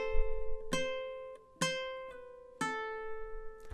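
Ukulele chords from measure 2 of The Office theme song, three firm strums spaced about a second apart, each ringing and decaying, played solo and close up.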